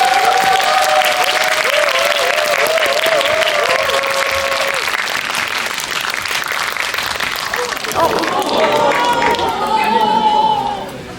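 Loud applause from a cinema audience at a CGV screening in Yeongdeungpo, welcoming a film director and an actor as guests, continuous clapping for about ten seconds, with excited voices and cheers through it.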